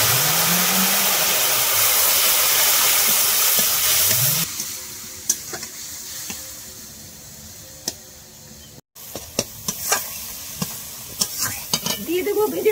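Chili, cumin and turmeric powders fry with a little water in a pan, giving a loud hiss that drops to a softer sizzle broken by scattered stirring clicks and scrapes.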